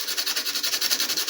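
A metal plate is sanded by hand in quick, even back-and-forth strokes, a rhythmic raspy scratching that is close and alone.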